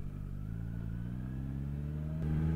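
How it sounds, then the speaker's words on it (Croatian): A 2018 Kawasaki Z900 motorcycle under way, its engine note climbing steadily as it accelerates, then a sharp shift and a louder, rising rev near the end. "A sad ćemo malo vidjeti ovako sa strane šta sve motor može"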